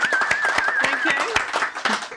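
A room of football fans at a Birmingham City fan talk show claps for a newly engaged couple, a dense patter of hand claps under a steady murmur of voices.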